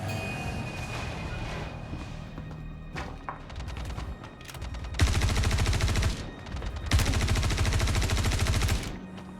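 Gunfire in the sci-fi shooter Star Citizen: scattered single shots, then two long, loud bursts of rapid automatic fire with a heavy low rumble, close and dominant, with no talk.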